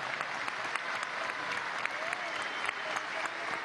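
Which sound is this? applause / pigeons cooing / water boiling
applause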